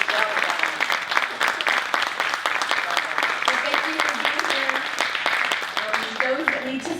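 Loud audience applause for the speaker after a leadership master class Q&A, a dense crowd of clapping hands close by with voices and cheers mixed in over the top throughout.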